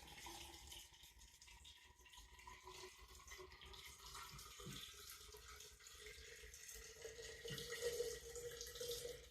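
Lime water pours over eggs in a jar, a soft continuous trickle and splash close by that swells slightly toward the end.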